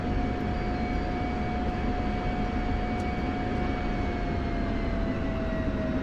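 Aircraft engine in a flight game while taxiing, a steady loud drone with a constant whine and no change in level throughout.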